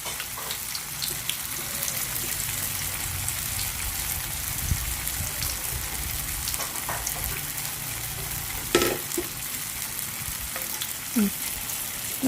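Tofu skin sizzles and crackles steadily in hot oil, a constant frying hiss with occasional sharper pops and clinks of a utensil.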